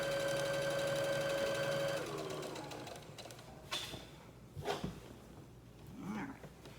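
A sewing machine stitches a fleece panel blanket, running in a steady, loud whir for about two seconds before slowing and stopping. Quieter handling thumps and rustles follow.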